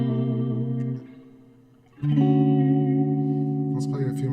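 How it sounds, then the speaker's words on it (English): Sustained tones with a reverb effect applied, holding steady, dropping away briefly near one second, then swelling back with a rich, echoing sustain and some higher accents toward the end. "That was fun doing the reverb thing. It sounds so cool, but it's easy to overdo."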